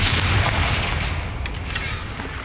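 A Confringo fire spell from the Hogwarts Legacy video game blasts with a loud, heavy booming burst that rumbles and fades over a couple of seconds, with no talk.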